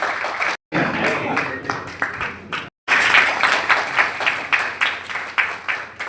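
Loud applause from a seminar audience on green energy, with continuous dense clapping broken by two brief gaps and a voice heard over it.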